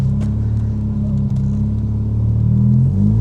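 A 480 bhp 1990s Mazda RX-7 sports car gives a deep, continuous engine rumble heard close up. The low drone holds steady and swells slightly toward the end as the car pulls hard.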